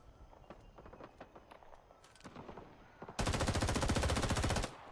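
A rapid-firing machine gun in the video game Rising Storm 2 Vietnam lets off one loud sustained burst of about a second and a half, after a stretch of quieter clicks and footstep-like taps.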